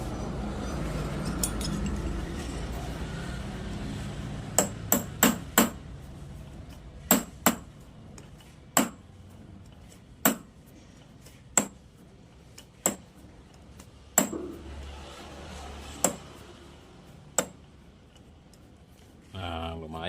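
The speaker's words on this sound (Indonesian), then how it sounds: "Jika masih ada bengkokan pada baut, kita lurusi dulu." Metal hammer blows on a bent bolt being straightened, a series of sharp, ringing strikes spaced about a second or two apart, under a continuous stretch of talk.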